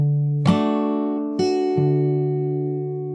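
A fingerstyle acoustic guitar plays slowly from a song: three separate plucks, each left ringing long with rich sustained bass, close and clean.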